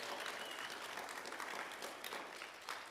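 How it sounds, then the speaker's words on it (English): A crowd at a disability-rights voting rally cheers and claps, a distant, roomy wash of applause with scattered whoops, steady before easing slightly near the end. "go ahead and cheer on that"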